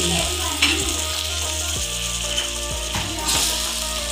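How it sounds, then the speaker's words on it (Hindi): Spice masala of coriander, turmeric and crushed chillies frying in a pan for potato samosa filling, a close, steady sizzle with scraping stirs and faint mechanical ticks running under it. "और इस मसाले को मैं 1 से 2 मिनट तक भूनूंगी"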